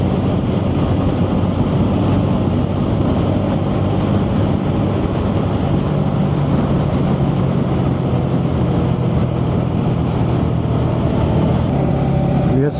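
A motorcycle engine hums steadily at highway speed on a road ride, a loud, continuous drone mixed with wind rush and low rumble that holds for the whole stretch.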